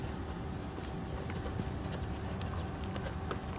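Horse hooves clip-clopping in a steady working walk during a dressage schooling session, a continuous even rhythm of close hoofbeats on the arena surface with no talking.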